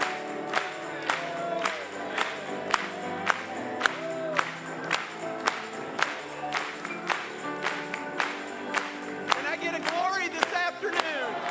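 A church congregation at a service, cheering and applauding while strong rhythmic clapping and voices mix with music, loud and continuous, with people singing and calling out throughout.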